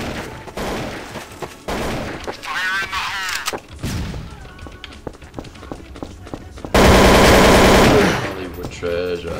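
Rapid automatic gunfire and single shots from Counter-Strike: Source, loud bursts of rattling fire with a heavy sustained volley near the end, mixed with someone talking over the game.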